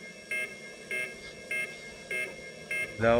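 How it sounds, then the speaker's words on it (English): An alarm sounds in the Far Cry 6 video game, repeating as short pulsed tones roughly every half second over a low background hum, with a louder rising tone at the very end. "We got two alarms."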